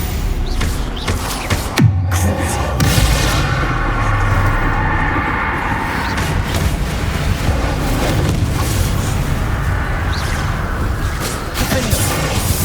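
A spell being cast in Hogwarts Legacy on PlayStation 5, heard as a dense, sustained wash of magical blasts and rumbling impact noise, loud and continuous throughout.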